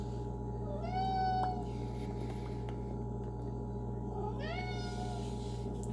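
A kitten meows twice, a rising then falling cry near the start and another about four seconds in, close and clear over a steady low electrical hum indoors.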